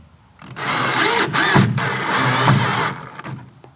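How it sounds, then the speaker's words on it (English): A close, loud power drill whirs and grinds in a sustained burst into a precast concrete window sill, briefly dipping mid-run, then winds down to quiet. "drill through the pre-punched holes of the frame into your precast sill"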